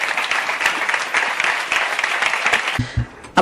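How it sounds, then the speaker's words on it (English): Enthusiastic crowd applause, many hands clapping continuously, tapering off near the end with a few louder isolated claps. "Big round of applause."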